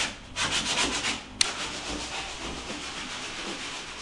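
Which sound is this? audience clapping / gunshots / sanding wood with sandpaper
sanding wood with sandpaper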